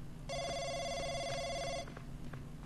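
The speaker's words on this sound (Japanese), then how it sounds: "電話が鳴ってるぜ" A telephone in a video game rings with a steady electronic tone for about a second and a half, then falls silent, fairly quiet against soft background noise.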